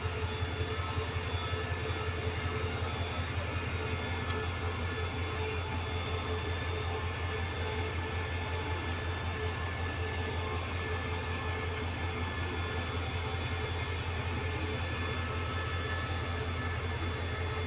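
Thai diesel-electric QSY locomotive idling with a steady low engine drone while coupling to a long rake of about fourteen CNR sleeper cars, a faint metallic squeal rising briefly near the middle, no talk.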